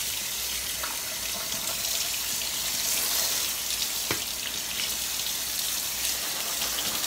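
Canned beans rinsed in a colander under a running tap, a steady close rush of water splashing through metal with an occasional light clank, no talking.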